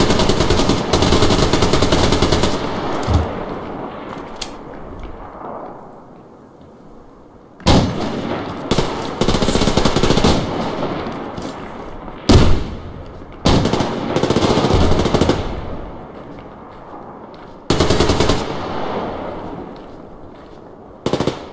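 Heavy AK rifle gunfire in the shooter game Survarium, loud close bursts of automatic fire broken by short pauses, with sharp single reports between the volleys.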